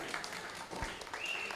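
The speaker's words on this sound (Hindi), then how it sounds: "ज़ोरदार तालियाँ।" An audience at an Urdu mushaira poetry gathering gives a dense, steady wash of applause, heard at a moderate distance and without clear individual claps.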